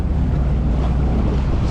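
A jet ski engine idles steadily on Lake St. Clair, its low continuous rumble mixed with wind buffeting the microphone and lapping water, close and loud with no speech.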